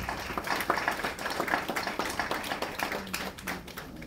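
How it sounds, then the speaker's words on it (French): An audience at a Côte d'Ivoire gathering applauds the minister, a scattered burst of hand clapping, moderately loud and somewhat uneven throughout. "je voudrais qu'on puisse, je dirais, applaudir Madame la ministre Ramon Koto"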